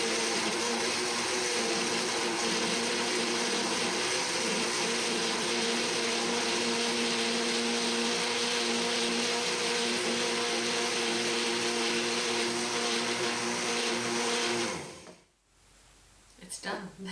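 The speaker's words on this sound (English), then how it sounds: "before I turn on the blender" A kitchen blender runs loud and steady for about fifteen seconds, blending sorghum banana bread batter, then cuts off abruptly.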